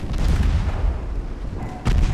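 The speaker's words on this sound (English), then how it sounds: "There we go, one torpedo away." A torpedo launching from an 1897 French warship in Ultimate Admiral: Dreadnoughts: a loud deep thump and rumble that fades, then a second burst of noise near the end.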